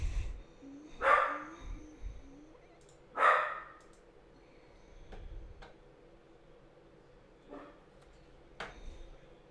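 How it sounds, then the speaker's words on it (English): A dog barks a few times in the distance, two louder single barks followed by fainter ones, with long quiet gaps and a ticking sound in between. "my dog's barking"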